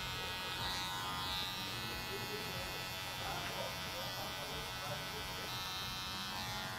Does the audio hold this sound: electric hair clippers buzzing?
yes